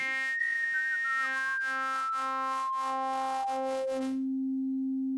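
A Eurorack modular synthesizer oscillator buzzes with bright stacked harmonics, pulsing rhythmically while a high partial sweeps downward, then settling into a steady pure drone.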